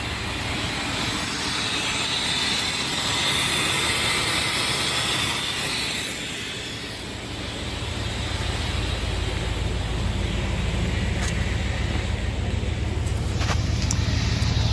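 A Ram truck with an axle dump exhaust runs, giving a loud, steady low rumble with a breathy hiss that swells slightly partway through.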